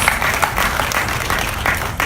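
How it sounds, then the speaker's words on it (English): A crowd at a school awards ceremony applauds, a thick, continuous roar of clapping that stays even and full throughout. "let's give ourselves a round of applause"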